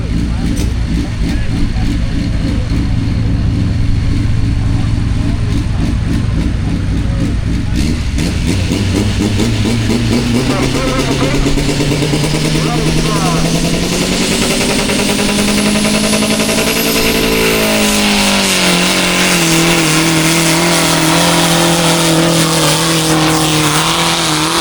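Pulling tractor roaring through a run at a tractor pulling event at Laughton, the loud engine climbing in pitch as it pulls away, with a voice talking over it.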